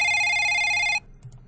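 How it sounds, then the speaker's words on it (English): A telephone ringing in a video game, one loud electronic ring burst lasting about a second before cutting off, heard alone with no talk. "The phone rang, and rang, and rang. It wouldn't stop."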